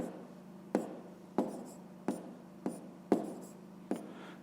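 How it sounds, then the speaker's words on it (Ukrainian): Pen strokes on paper tap and scratch in a steady rhythm as an answer is handwritten for a fifth-grade math exercise, six or so distinct close strokes over a soft, even hum. "а зараз записуємо відповідь, пишемо відповідь"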